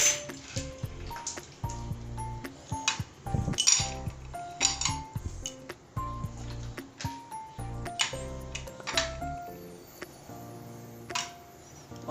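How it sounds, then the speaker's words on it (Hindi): Ice cubes clatter one after another into glasses of raw mango sharbat, sharp clinks and knocks in an irregular rhythm, close and fairly loud with no talking. "अब हम इसमें क्यूब्स डाल रहे हैं।"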